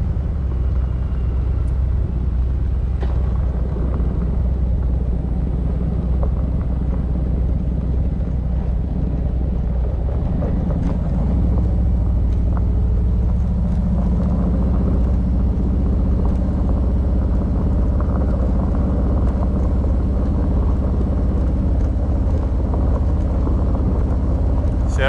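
Motorcycle riding along a heavy-grade unpaved gravel road in Wisconsin, a continuous loud low engine rumble with crunching tire noise and wind buffeting on the microphone, the engine tone rising slightly partway through, with no talking.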